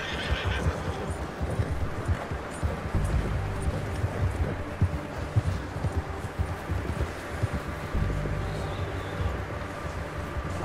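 Horse neighing and hooves clip-clopping in Red Dead Redemption 2 on PS4, with a steady bed of game ambience throughout and the whinny standing out clearly.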